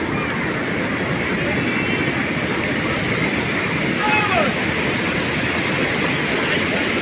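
High floodwater rushes past a river crossing in a loud, unbroken roar that stays steady throughout, with wind buffeting the microphone and voices faintly mixed in.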